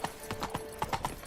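Roach the horse trots briefly in The Witcher 3, about eight distinct hoof clops in quick, uneven rhythm, close and clear.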